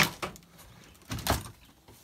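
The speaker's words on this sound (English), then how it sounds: "this is how you rip a door off the shed" A couple of sharp creaking, cracking wooden bangs as a shed door is pried off, one near the start and a louder one past the middle, with quiet pauses between.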